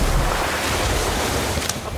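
An orb of water spell cast in the video game Harry Potter Magic Awakened, a steady loud rushing wash like surf and wind that fills the whole moment without a break.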